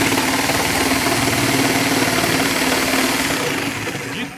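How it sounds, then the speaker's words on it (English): A reciprocating saw cutting through wood, its motor buzzing loudly and continuously with a rapid vibrating chatter before easing off in the final second. "once I get it up to speed, I'm going to cut all the way through"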